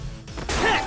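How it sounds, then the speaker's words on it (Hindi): A car being smashed in a South Indian movie action scene: a sharp crashing impact followed by a bright ringing burst of debris and metal, loud and close, with no talk. "फोड़ दे इसकी गाड़ी"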